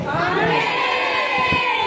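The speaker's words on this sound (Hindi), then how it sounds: "चिल्ला कर आमीन बोले।" A church congregation at a testimony and prayer meeting shouts together in unison, a loud, brief crowd roar of many voices blending into one burst.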